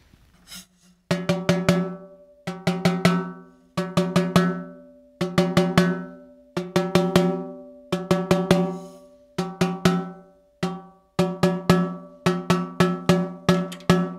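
Quick clusters of bright, ringing taps on a drum head being tuned, played in short bursts with pauses between, fairly quiet and close.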